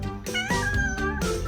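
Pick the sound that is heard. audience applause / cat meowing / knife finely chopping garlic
cat meowing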